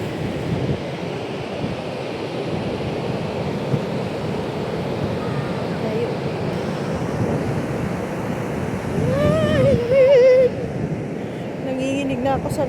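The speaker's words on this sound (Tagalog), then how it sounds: "Kaya lang maalon siya ngayon." Rough sea surf rolling onto a cold, windy beach, a constant loud wash of waves and wind buffeting the microphone, with people talking briefly near the end.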